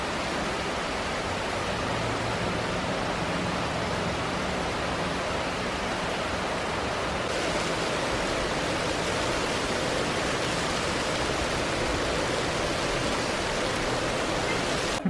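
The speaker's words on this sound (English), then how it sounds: "There's the rain I said was coming." Heavy rain pours down steadily in Seattle, a dense, continuous broadband hiss that stays loud and even from start to finish with no voices.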